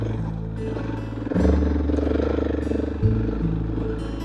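A KTM 690 motorcycle engine runs steadily on a rough dirt road in Big Bend, a loud, close throbbing drone that surges with a throttle blip around the one-and-a-half-second mark and again near three seconds.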